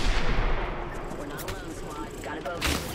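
Bursts of heavy gunfire from the video game Apex Legends, loud and booming at first, then continuing as a dense rattle with another sharp shot near the end.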